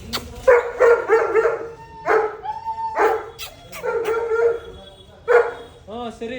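A German Shepherd at a veterinary clinic barks and yips in quick, loud bursts close by, with several rapid barks, short pauses and a whimpering tail at the end.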